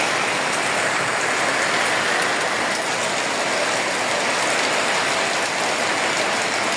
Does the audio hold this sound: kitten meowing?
no